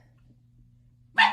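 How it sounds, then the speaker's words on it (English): A single sharp dog bark bursts out at the end after near silence, loud and close. "I apologize for the barking dog."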